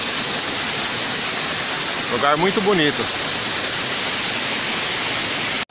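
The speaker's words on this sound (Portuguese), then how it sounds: "E a água vem descendo aqui, vai, bate todo no meio dessas pedras." The Itaci waterfall in Paraíso do Norte, Mato Grosso, crashes onto rocks near its top with a loud, unbroken roar that fills the whole stretch. A person speaks briefly over it.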